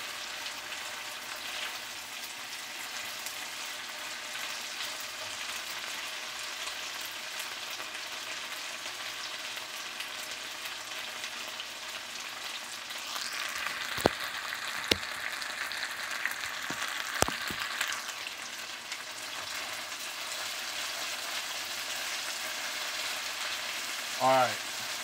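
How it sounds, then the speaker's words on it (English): Steak and shrimp stir-fry sizzles steadily in a hot pan, a constant close frying hiss with a few sharp pops and brief stirring clatters midway, no voices over it. "Listen to that sizzle and pop."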